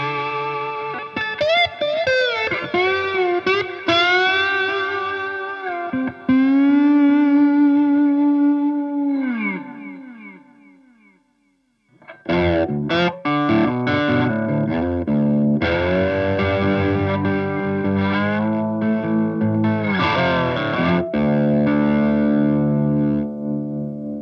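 Electric guitar running through the Brown GD stock preset on a battery-powered HX Stomp fly rig, with distorted melodic lines and held notes, a brief pause near the middle, then louder chordal riffing, close and prominent without talking.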